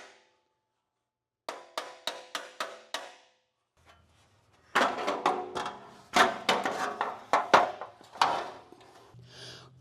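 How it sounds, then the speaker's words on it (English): A hammer taps an aluminum C10 grill backed by a large chisel serving as a dolly: first a quick run of five or six sharp, ringing strikes, then a pause, then a longer, denser flurry of close metallic taps. "So I'm going to tap on the top of there. It's actually backed by the giant chisel, which acts like a dolly."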